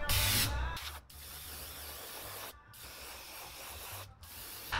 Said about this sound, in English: I don't want to just have my airbrush pointing straight at it